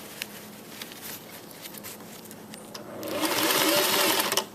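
A sewing machine stitches a seam on a skirt nearby, starting with faint ticking and then breaking into a steady, rapid whirring run over the last second and a half.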